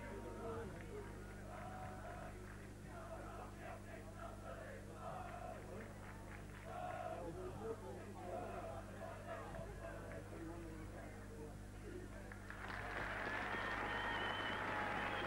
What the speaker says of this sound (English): tremendous round of applause